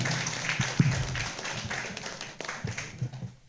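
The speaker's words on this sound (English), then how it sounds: "Please give applause." A scattered round of clapping from a conference workshop audience thanking a professor, fairly close and uneven, a few sharper claps standing out before it thins toward the end.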